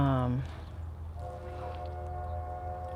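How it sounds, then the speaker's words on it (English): A steady low rumble with tonal horn-like notes from a train in the distance, a brief voice fading at the start. "I can hear a train too."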